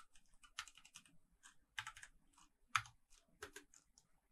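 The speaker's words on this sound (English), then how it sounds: "We can do that by typing" Typing on a computer keyboard while working in RStudio, heard as irregular bursts of key clicks with a few louder strikes, close and fairly quiet, with no talking.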